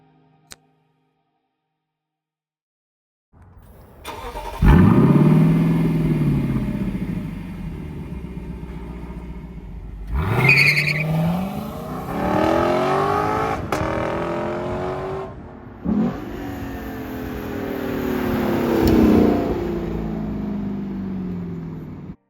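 A 2024 Lexus LC500 Convertible starts up and drives, its engine swelling loud with repeated rising revs through the gears, heard alone without talk.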